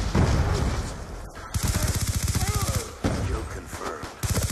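Heavy gunfire in the video game Black Ops 2, with continuous rapid bursts of automatic fire and booming shots, loud and close, along with some voice sounds.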